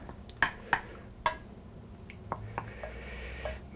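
A spoon stirs a cornstarch and water mixture, producing a few sharp clinks against the dish early on, then softer scraping and swirling taps, close and fairly quiet.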